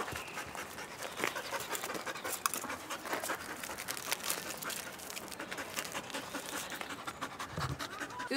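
A police drug-detection dog pants steadily and rapidly at close range throughout, with faint crinkling and shuffling around it and no talk.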